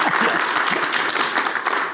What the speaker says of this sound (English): No clap for the cum laude?